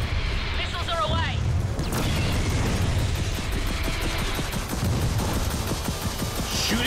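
Rocket launcher missiles fire and explode in Gears of War 4, a sustained roar of launches and booming detonations under continuous combat noise, with voices speaking amid the action.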